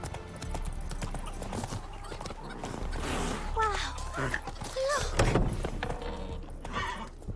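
Roach the horse galloping in the game The Witcher 3: steady, close clip-clop of hooves with a brief whinny partway through, while spoken dialogue runs over the hoofbeats.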